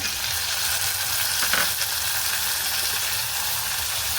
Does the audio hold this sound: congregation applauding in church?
no